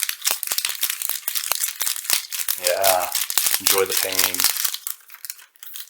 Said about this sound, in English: That crinkling sound, the same crinkling sound you heard with the penny sleeves.